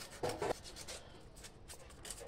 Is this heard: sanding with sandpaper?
yes